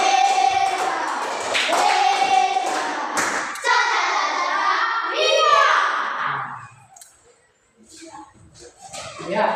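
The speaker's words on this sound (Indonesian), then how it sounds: "Tepuk apresiasi untuk mereka." A classroom of children claps in appreciation for classmates, scattered bursts of hand claps and thumps mixed with kids' voices and chatter, fading to quieter shuffling before picking up again.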